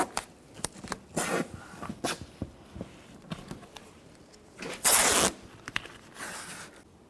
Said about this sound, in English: Tape the window up.